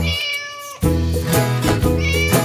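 A cartoon cat meows over a bright nursery-rhyme backing, the voiced cry rising in from about 0.8 seconds and holding clear and close for over a second amid the music.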